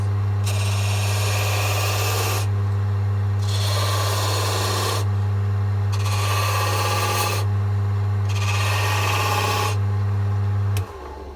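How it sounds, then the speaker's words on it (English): V chisel touched to spinning wood on a lathe during spindle turning, a loud steady motor hum with four repeated bursts of bright scraping as the tool meets the wood, each lasting a couple of seconds. "we're going to take our V chisel and we're just going to gently touch it to those lines"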